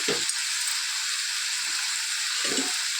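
Eggplant and cucumber pieces sizzle in hot oil with a steady, dense hiss, broken by a few soft low stirring knocks.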